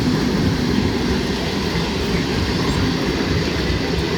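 The Up Howrah–Bardhaman local train runs along the main line towards Bandel Junction with a loud, steady rumble and continuous wheel clatter, close by, with faint squeal in the upper range.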